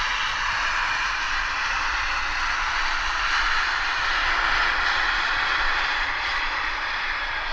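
A Delta Connection airliner arrives at Vancouver Airport with a steady, broad roar of aircraft engines that holds loud and even throughout, with no talk.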